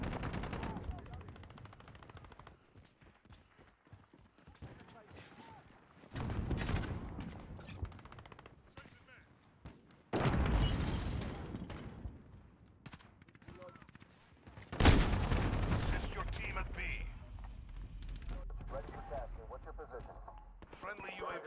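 Gunfire in Call of Duty: Modern Warfare, bursts of automatic shots coming in separate loud clusters with quieter gaps of distant firing and movement between them, under short radio-style callouts.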